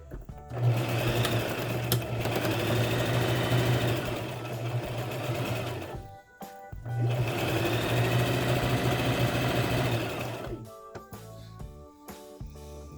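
Sewing machine stitching a fabric face mask, running in two long steady bursts of even, close mechanical whirring separated by a short pause, then stopping.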